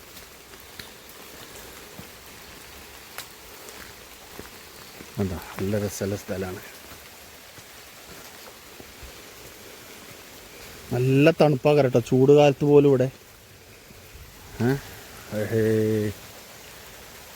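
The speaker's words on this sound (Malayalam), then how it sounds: "ആ കുളത്തിൽ നിന്ന് വരുന്ന വെള്ളമാണിത്." Water flows from a pond beneath shaded trees in a steady, soft rushing wash that runs through the whole clip, while someone talks over it in short bursts.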